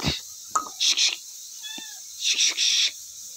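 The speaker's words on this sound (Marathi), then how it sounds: "तर गायस आमच्या घरी मांजर आली या" A cat meowing inside a home, one short, clear meow amid a few brief rustling and scraping noises nearby.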